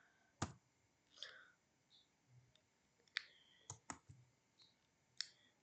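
A computer mouse gives sharp, sparse clicks, quiet and close, scattered irregularly across several seconds with faint background hum between them.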